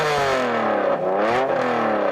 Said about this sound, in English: I'm going to rev up this Honda NSX.